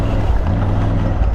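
A 2020 Triumph Tiger 900 Rally Pro motorcycle ridden in second gear gives a steady, loud, close engine rumble with wind and road roar, unbroken across the moment.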